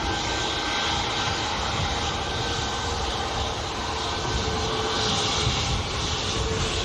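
Ryanair jet aircraft taxiing to line up on an airport runway, a continuous steady engine drone and whine at moderate distance, even in level throughout, with no voices.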